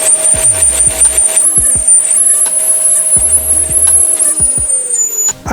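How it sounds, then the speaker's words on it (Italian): Steady, loud suction from a vacuum cleaner clearing debris around a gas hob burner and nozzle, with a continuous whine and scattered bumps and knocks, dropping away right at the end. "e infine utilizzo per l'ultima volta l'aspirapolvere."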